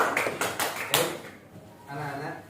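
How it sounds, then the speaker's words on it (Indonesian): A class of fifth-grade schoolchildren claps in a short burst of several sharp, uneven hand claps, close and fairly loud, then the room quiets and a voice begins speaking. "Oke, tepuk tangan untuk semuanya."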